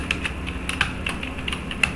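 Fingers type rapidly on a computer keyboard during an accuracy drill, giving a close, steady patter of crisp keystrokes with no talking.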